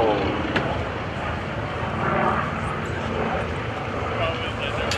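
A loud, sustained piston engine of an F4U Corsair fighter roars overhead, its 2,800 cubic inch engine giving a broad, rumbling drone that swells slightly midway during an aerobatic demonstration.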